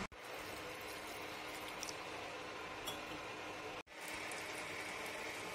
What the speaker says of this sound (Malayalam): 1/2 ഉലുവ, 1/2 കപ്പ് ചോറ്, 1 കപ്പ് തേങ്ങ, ഇതെല്ലാം കൂടി മിക്സീന്റെ ജാറിൽ നമുക്ക് ഇട്ട് അരച്ചെടുക്കാം